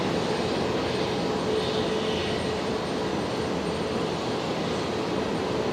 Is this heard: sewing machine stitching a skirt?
no